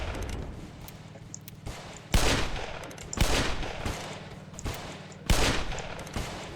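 Gunfire in a Roblox PvP game, several distinct loud shots spaced about a second apart over a steady background hum, each with a short tail.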